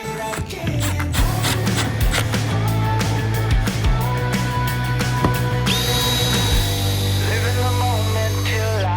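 A power drill drives pocket hole screws into wooden kitchen panels for a camper van build, making loud, close whirring bursts over a continuous hum. A higher-pitched steady whine takes over partway through.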